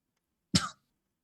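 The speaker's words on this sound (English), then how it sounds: "Yenna looks fine after a vicious coughing fit." A single short, dry cough or throat clear sounds alone against silence, close and brief, during a tabletop role-play session.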